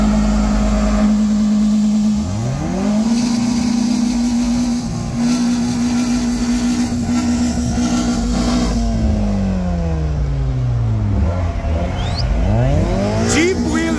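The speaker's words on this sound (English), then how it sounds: "Rev him one more time for us" A VW 1.8-litre engine revs at a campsite gathering: the pitch climbs, holds high for several seconds, then falls away before a second sharp blip. It is loud and close, with people talking over it.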